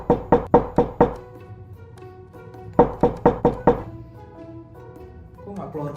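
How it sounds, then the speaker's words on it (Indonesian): Two close, loud bursts of five quick knocks rap on a bedroom door in a large house, separated by a pause, with a faint voice murmuring between and after them. "Kurang keras kali ya ketoknya ya?"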